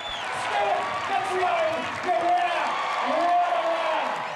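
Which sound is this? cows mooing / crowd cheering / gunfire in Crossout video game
crowd cheering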